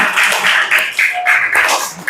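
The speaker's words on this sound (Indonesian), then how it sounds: "Tepuk tangan untuk kita semuanya" Audience applause, a short burst of brisk, close clapping in several quick waves, with no talk over it.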